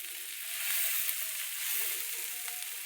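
Roasted dried fish (sukat) tipped into a hot frying pan gives a steady, soft sizzle and light crackle throughout, close by and fairly quiet, with no one talking.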